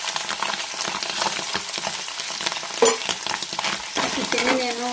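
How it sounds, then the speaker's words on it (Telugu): Chicken pieces coated in pakoda batter sizzle steadily in hot oil for a chicken mixture snack, with occasional stirring clinks against the pan and no talking. "మిగిలిన చికెన్ కూడా ఇలా వేసుకోవాలి"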